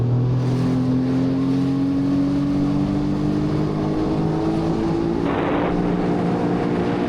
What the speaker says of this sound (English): I'm just going to start putting the throttle down a bit, see how this goes.